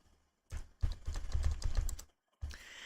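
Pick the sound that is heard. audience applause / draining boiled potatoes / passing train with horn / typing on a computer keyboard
typing on a computer keyboard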